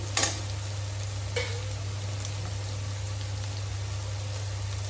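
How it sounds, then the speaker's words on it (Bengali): Bitter gourd frying in a pan with spices, a steady low sizzle running throughout with a couple of sharp stirring clatters near the start, close and moderately loud, no voices. "আমার করলা ভাজাটাও হয়ে গেছে"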